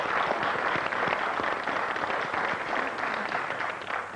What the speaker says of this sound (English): We'll just put it up on the board and give him a round of applause